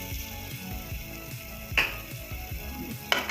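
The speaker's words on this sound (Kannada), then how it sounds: "ಇದು ಬೆಂದಿದೆ, ಸ್ವಲ್ಪ ಫ್ರೈ ಮಾಡ್ಕೊಳ್ಳೋಣ ಅಷ್ಟೇ." Spinach and green chilli paste frying in a pan for palak paneer gravy, a steady close sizzle with clinks and scrapes of stirring and two sharper metallic knocks.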